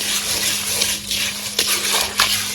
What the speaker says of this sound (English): Let's go ahead and wash our rice.